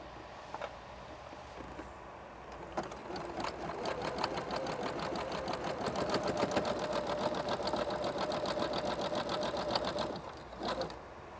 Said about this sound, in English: And then we're gonna switch to zigzag. And press down.